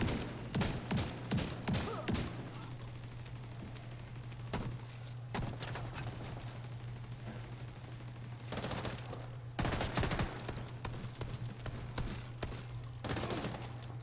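Automated turret fire in the video game The Division 2, with bursts of rapid gunfire and impacts coming in clusters against a steady low hum, loud bursts separated by quieter gaps.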